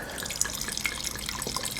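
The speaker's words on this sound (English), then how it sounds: "Let me pour red wine." Red wine is poured from a bottle held at its bottom lip, never touching the glass, giving a faint, steady liquid trickle with soft splashy detail and no talk.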